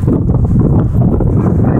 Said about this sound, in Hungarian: de még a szél is fúj